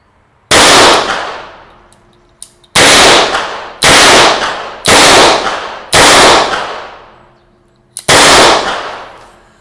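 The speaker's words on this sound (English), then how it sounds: "Single action first shot." Six loud, sharp gunshots from a Chiappa Rhino 120DS long-barrel revolver ring out at uneven intervals, each with a decaying echo tail, and faint clicks come between shots.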